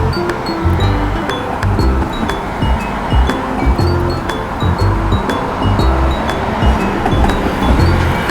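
A train rumbling across a bridge over the river at South Bank in Brisbane, a steady loud rolling roar with rhythmic wheel clatter and outdoor wind noise throughout.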